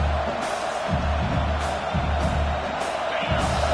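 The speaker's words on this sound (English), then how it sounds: "This crowd trying to make life miserable for this offense." A college football stadium crowd at a Michigan home game roars continuously, a dense wall of cheering and whoops swelling loudly without letup.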